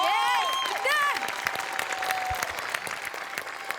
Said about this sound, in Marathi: तेवढ्याच टाळ्या तुमच्या सगळ्यांसाठी आणि पुन्हा एकदा गोस्वामींसाठी पण